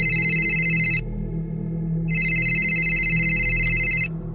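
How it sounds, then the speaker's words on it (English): A telephone rings in the horror game Blood Cleaner: two long bright electronic ring bursts with a short pause between them, over a low steady hum, clear and nearby with no voices. "Phone is ringing."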